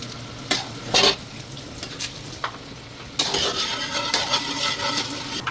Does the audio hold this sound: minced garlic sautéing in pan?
yes